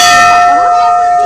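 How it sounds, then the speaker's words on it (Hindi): A single loud temple bell strike rings out close by, a bright metallic clang with a sustained pure tone fading slowly. "घंटी बजा के"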